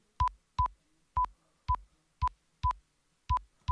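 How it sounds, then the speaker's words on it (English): Gated sine-wave test tone near 1 kHz, sounding as eight short, evenly spaced bursts, each clipped by the noise gate with silence between them, with no voices present. "we start to lose the front end of the sine wave tone"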